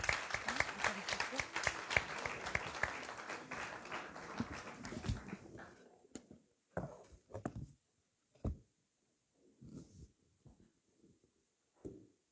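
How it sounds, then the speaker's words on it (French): A church wedding congregation breaks into dense, loud applause that thins out after about five seconds into scattered claps and brief sounds. "Est-ce qu'on peut encore donner des acclamations pour notre Dieu?"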